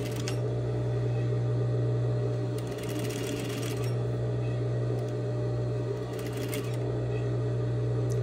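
Sewing machine stitching and backstitching a tote bag facing through two layers of seam allowance, a close, steady motor hum with rapid needle chatter and two brief pauses.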